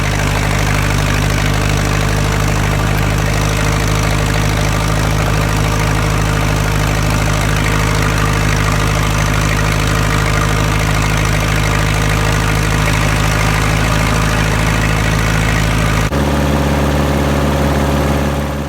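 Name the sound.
Massey Ferguson 50 tractor engine idling after starting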